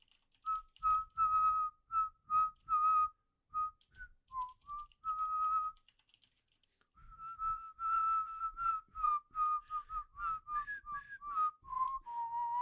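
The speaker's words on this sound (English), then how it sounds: "was that whistling you" A person whistles a tune alone in short, clear melodic phrases, pausing for a gap before resuming with a longer run of notes, fairly faint with soft clicks underneath.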